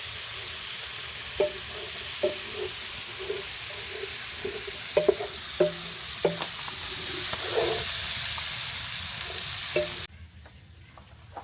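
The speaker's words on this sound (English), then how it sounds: "we want to stir it around, try to get that bacon grease on as much of this cabbage as we can" Cabbage stirred through hot bacon grease in a pot over an open fire, a steady broad sizzle with repeated scraping knocks of the spoon, fairly close, ending abruptly in quieter background hiss.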